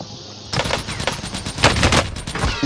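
Burst of automatic gunfire in Call of Duty Modern Warfare, loud, rapid and crackling, starting after a brief quiet lead-in and rattling on in dense volleys to the end.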